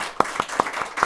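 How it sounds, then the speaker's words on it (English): An audience of women claps in a crowded hall, a dense patter of hands with a few sharper individual claps, steady and fairly loud. "It's all the women who are clapping."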